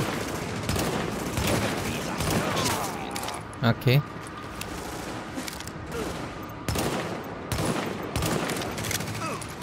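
Gunfire from a shooting video game set in a ruined city crackles in scattered bursts, with a sharper close volley near the middle, while players talk over it.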